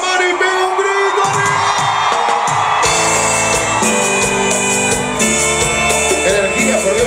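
Concert crowd shouting and cheering, a loud continuous roar of whoops and yells with music playing underneath.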